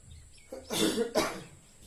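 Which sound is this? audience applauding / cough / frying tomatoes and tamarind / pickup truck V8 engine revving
cough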